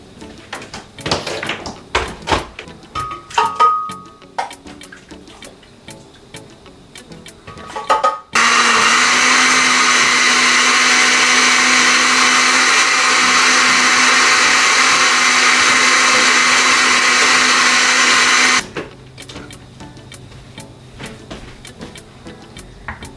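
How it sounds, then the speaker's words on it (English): A blender whirs loudly and steadily for about ten seconds, blending cooked pumpkin and carrot, starting and stopping abruptly, with quieter kitchen clatter before and after. "I'll get the blender started to blend the pumpkin and the carrot together"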